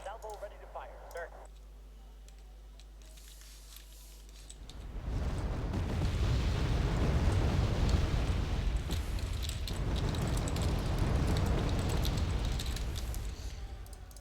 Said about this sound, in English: Salvo ready to fire, sir.